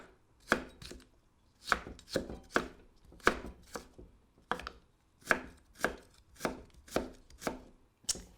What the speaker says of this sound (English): You're going to cut the carrots like so.